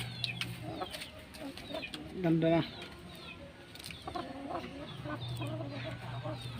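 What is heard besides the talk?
rooster clucking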